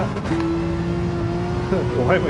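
Porsche race car engine at Monza in Gran Turismo 7, a steady sustained drone holding one pitch with a rising rev swell near the end, heard under a streamer's commentary.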